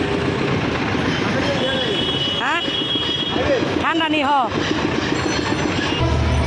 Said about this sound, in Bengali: এখন এক ট্রেন গেল